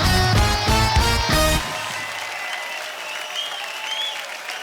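A studio audience on The Kapil Sharma Show, a comedy show, breaks into loud applause after music cuts off, the dense clapping continuing steadily and then easing slightly.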